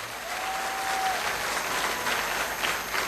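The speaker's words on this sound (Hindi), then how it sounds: "मैं चाहता हूं आप अपने लिए एक जोरदार तालियां बजाएं" An audience claps loudly and steadily in sustained applause for about three seconds, with a brief tone sounding early on.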